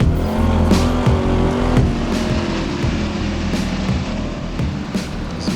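An autocross race car drives hard through the cones on the course, its engine loud and close, revving and dropping in repeated bursts as it shifts and turns, with brief tire noise and no talk.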